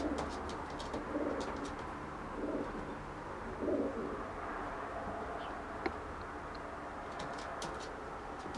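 A Jan Aarden racing pigeon hen, a 2014 checker with white flights, gives three soft, low coos a second or so apart over a faint background hum, with brief sharp clicks here and there.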